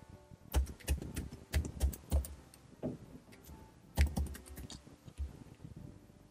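Keys on a computer keyboard tapped in short irregular bursts, close and crisp, with brief pauses between clusters of strokes.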